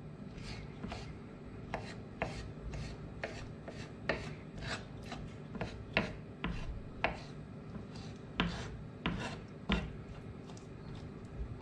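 A knife coarsely chops fresh raspberries on a cutting board for a white chocolate raspberry cake, giving a steady series of soft, close thuds and scraping strokes with no talk.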